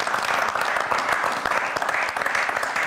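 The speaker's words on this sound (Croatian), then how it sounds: "dajte barem aplauz, molim vas" Studio audience applauding on a Croatian television talk programme, a dense stretch of steady clapping from many hands at moderate volume, continuous from start to finish.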